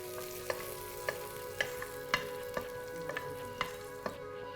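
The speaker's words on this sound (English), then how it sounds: "I'm just stirring this until the cumin seeds splutter" Cumin seeds, chopped garlic and green chillies spluttering in hot oil in a pan, a soft, faint sizzle broken by sharp, irregular pops about every half second.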